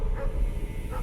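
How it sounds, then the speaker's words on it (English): A brief, muffled dog bark or yip rises over low rumbling background noise. "My dog was going crazy, barking."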